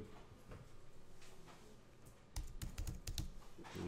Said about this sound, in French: Avec l'outil texte, vous allez simplement cliquer. Et vous avez un curseur qui clignote. Et vous pouvez taper du texte.